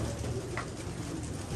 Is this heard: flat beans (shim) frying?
no